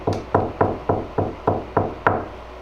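Knuckles rap on a slab of cured epoxy resin, eight sharp, evenly spaced knocks with a hard, slightly hollow ring, close up and alone.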